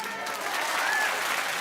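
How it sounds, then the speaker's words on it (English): A talk-show studio audience applauds, a steady wash of clapping that holds evenly throughout, close and full, with no voices over it. "Oh, keep clapping."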